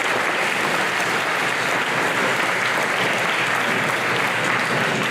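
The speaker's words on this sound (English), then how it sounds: "So another big round of applause for our high school band and Mrs. Childress." A large graduation crowd gives a high school band and its director a loud, dense, continuous round of applause, steady and unbroken for the whole stretch with no talk over it.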